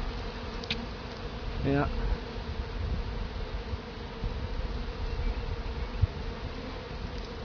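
A honey bee swarm gives a steady, dense buzz close by during a capture outdoors, with a cluster of bees on the ground. A brief voice cuts in once over the continuous drone.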